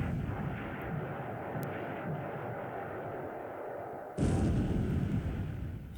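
Naval gunfire in War in the Pacific, a game where 14-inch guns fire on an enemy battle line, plays as a steady roaring wash of battle noise that jumps to a louder blast near the end; nobody speaks.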